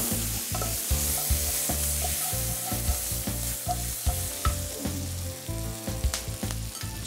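Chopped garlic sizzles in hot oil in a pan for a sweet and sour prawn dish, with a steady loud frying hiss and repeated scraping stirs of a spatula.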